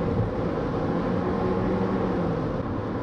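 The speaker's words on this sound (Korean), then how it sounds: "엔진이 힘을 많이 씁니다." From inside the cabin, a Honda All New CR-V turbo engine pulls hard under acceleration, a steady low drone with road and wind noise and no talking.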